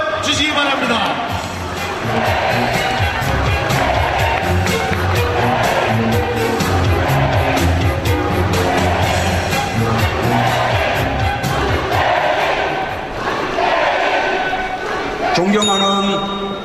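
A large crowd at a Democratic United Party regional primary rally in Daejeon, Sejong and South Chungcheong cheers and applauds loudly to welcome candidate Moon Jae-in, a continuous roar of voices and clapping with music and an announcer's voice underneath.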